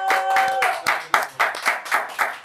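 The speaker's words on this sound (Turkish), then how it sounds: "Alkışların en güzeli buradan." Studio audience clapping on a Turkish rap talk show, a lively burst of close hand claps with uneven rhythmic pulses, loud and steady over about two seconds with a faint voice briefly underneath.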